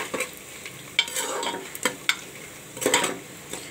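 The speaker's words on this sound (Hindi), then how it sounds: "बीच बीच में हमें प्याज चलाती रहनी है।" Onions for tomato rice fry in a pan as a spoon stirs them, soft crackling sizzle punctuated by repeated scraping strokes and clinks against the pan, close and fairly quiet.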